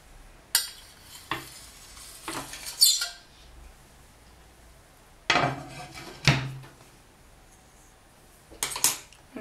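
Scraped polymer clay paint being mixed together on a tile with a tool, giving intermittent scraping and tapping strokes in several short bursts separated by quiet gaps, close by with no talking.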